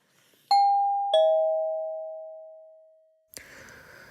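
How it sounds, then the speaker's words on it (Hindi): Two-tone ding-dong doorbell, two clear loud chimes ringing out and fading slowly, followed by a short rustle and faint background noise. "डोरबेल बजाकर असद ने वो बास्केट रमशा के घर के सामने रख दी"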